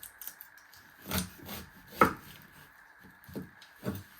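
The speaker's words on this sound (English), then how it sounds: "I like to flatten it so it's more easy to chop." A knife chopping an onion on a cutting board, a few separate dull thuds spaced about a second apart, close and fairly quiet.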